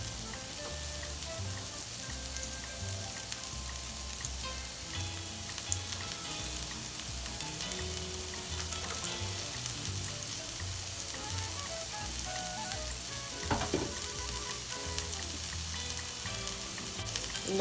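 Onions, sweet peppers and thyme frying in vegetable oil, a continuous close sizzle with occasional stirring sounds throughout.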